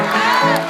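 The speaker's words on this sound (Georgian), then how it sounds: "ისინი, ვისაც მოსწონს გოჯუნია, უკრავს ტაშს და ყვირიან" A brief, dense burst of children shouting and cheering together, loud and continuous across the whole moment, like a group answering a call.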